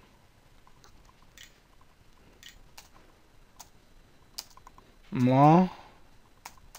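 Sparse, faint key clicks from custom message text being typed on a computer keyboard, scattered irregularly across the clip, with a single short spoken word near the end.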